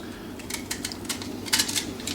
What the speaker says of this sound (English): So I'm just chopping this up into small pieces big enough to go in the garlic crusher.